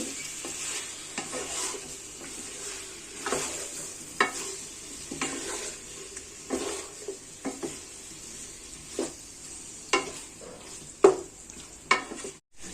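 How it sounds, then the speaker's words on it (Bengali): Cauliflower roast being stirred in a pan after cashew, pistachio and almond paste goes in, a low steady sizzle with irregular spatula scrapes and knocks against the pan, no voices. "এখন দিয়ে দিচ্ছি কাজু, পেস্তা এবং কাঠবাদামের পেস্ট। এখানে 2 টেবিল চামচ পরিমাণ আছে। আবারও নেড়ে দিচ্ছি।"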